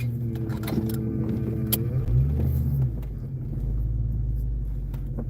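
A Ford Capri's engine rumbles steadily while driving, a deep low drone with a swell around the middle as the revs shift, close and continuous throughout.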